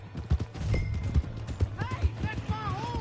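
Horse hooves clip-clopping in a Western-style video game, a quick uneven series of close hoof falls, with people speaking over them and a brief whinny-like call near the end.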